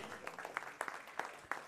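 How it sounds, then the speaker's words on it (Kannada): A small audience at a felicitation event for a flower show gives a short, faint round of applause, scattered individual claps rising and falling, heard from a distance with no talk over it. "ಒಂದು ಜೋರಾದ ಚಪ್ಪಾಳೆ"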